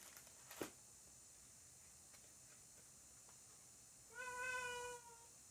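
In a quiet room, a house cat gives a single soft, drawn-out meow near the end after a stretch of near silence.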